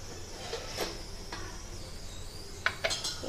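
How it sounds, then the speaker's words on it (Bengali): A metal lid comes off a steaming pot of bhapa sandesh, giving a few light clanks and scrapes of metal on metal. One soft knock comes early, and a pair of sharper clinks follows near the end against a quiet kitchen background. "এবার আমি ঢাকনাটা খুলে নিচ্ছি"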